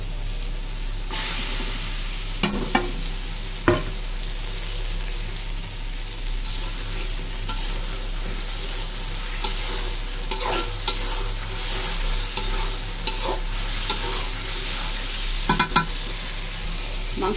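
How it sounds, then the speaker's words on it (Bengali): Marinated meat stir-fried with spices, a loud continuous sizzle with a low steady hum under it and occasional sharp spatula scrapes and knocks against the pan. "মাংসটা একেবারে কষানো হচ্ছে"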